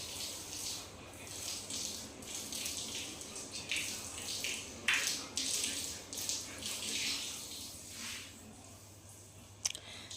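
Water runs from a tap onto clothes being soaked in detergent, a close, uneven splashing gush with sloshing bursts and occasional rattles, continuing throughout without talk.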